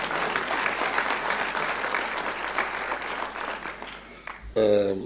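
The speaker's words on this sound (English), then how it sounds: "Can we please give him a hand of applause?" Audience applause at a South African national orders ceremony, a sustained even wash of clapping from a large crowd, ending as a voice begins.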